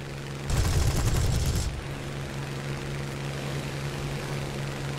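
A loud burst of rapid anti-aircraft cannon fire in War Thunder lasting about a second, followed by a steady aircraft engine drone.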